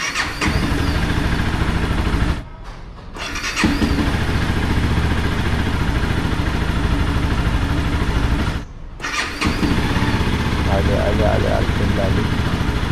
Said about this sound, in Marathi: 1-2 मिनटं कोल्ड स्टार्ट देऊन थोडीशी उभी करू.